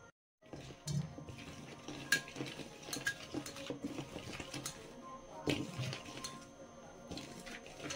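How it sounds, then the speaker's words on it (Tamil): A fried chicken marinade with pepper powder is stirred and mixed in a bowl, producing quiet clinks and scrapes of a utensil against the dish in an irregular rhythm, faint and close. "இதெல்லாம் போட்டு மிக்ஸ் பண்ணிக்கலாம்."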